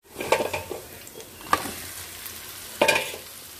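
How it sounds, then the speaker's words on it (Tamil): Bell peppers sautéing in a pan with pepper, chili and turmeric powder: a soft steady sizzle punctuated by three clear scraping stirs of a spoon against the pan, close and fairly quiet, with no talking. "இது எல்லாத்தையும் சேர்த்து ஒரு அஞ்சு நிமிஷம் நல்லா வதக்கிக்கலாம்"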